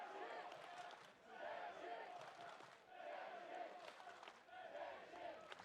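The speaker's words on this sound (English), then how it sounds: "some strong chanting there from the Czech crowd" Czech supporters in a grandstand at a Battle of the Nations 2016 medieval combat bout against Germany, chanting in rhythmic waves with clapping, four swelling phrases heard from a distance with no clear talk over them.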